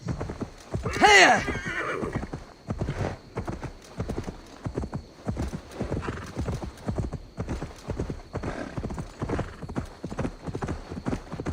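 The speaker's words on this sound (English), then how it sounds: "corre, corre, caballo, corre" Horse galloping in the video game Assassin's Creed Valhalla, a steady rapid clip-clop of hooves throughout, opening with a loud whinny, close and continuous with no talk.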